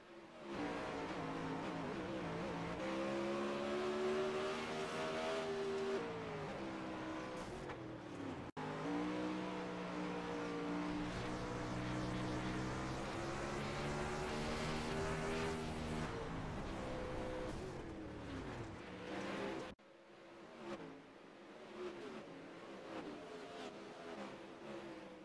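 360 winged sprint cars race at Knoxville Raceway, their engines a loud, continuous roar that rises and falls in pitch as the pack laps the dirt oval, with brief dips between passes.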